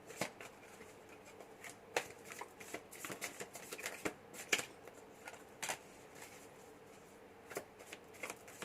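Tarot cards are shuffled and drawn by hand, producing soft, close riffling and sharp flicking snaps that come in irregular bursts against a quiet room.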